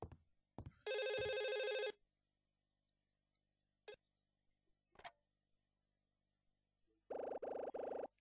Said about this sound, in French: Tiens, un coup de fil.